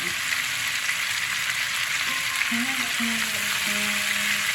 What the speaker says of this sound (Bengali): আমি না ঢেকে পাঁচ মিনিট তারপরে আমি না ঢেকে ভাজছি তাহলে কপিটা গোটা গোটা থাকবে